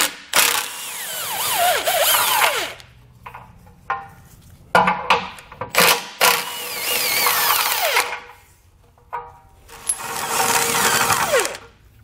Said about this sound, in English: We now want to remove our bumper beam. There's going to be two 15 millimeter bolts on each side.